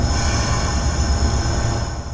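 A passenger train pulls away from a station, a steady loud rumble of wheels and carriages rolling close by, with no voices over it.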